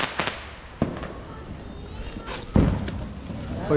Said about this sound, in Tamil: இதான் நம்ம கடைசி வானவெடி.